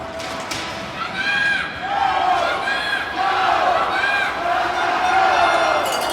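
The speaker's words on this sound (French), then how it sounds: "la foule s'allume, fin de deuxième" A hockey arena crowd roars and chants at the end of the second period, loud and sustained throughout, with a commentator's voice over the top.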